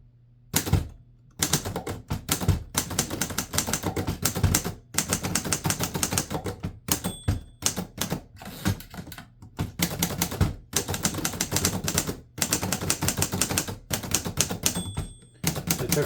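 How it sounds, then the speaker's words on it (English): A 1940s Underwood Universal typewriter clatters on a wooden desk, rapid close keystrokes with hard thuds, carriage pauses and occasional bell dings across a steady run of typing. "This would be much quieter with a typewriter pad because it's a pretty small machine."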